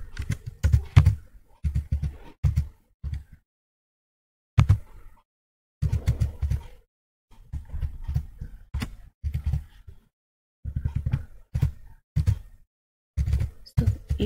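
Bursts of quick key clatter on a computer keyboard while HTML is typed into a text editor, close and crisp, in short runs separated by pauses, with no talk.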